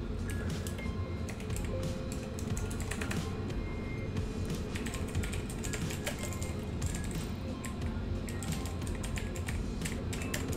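Someone types on a computer keyboard while playing Eve Online. Fast, continuous clacking of keys runs throughout over a dense background hum, with no talk.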